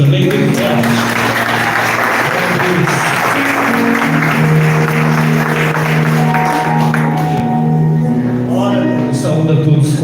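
A church congregation applauds steadily throughout, a loud continuous patter of many hands, while someone speaks over it with a sustained, tonal, preaching delivery.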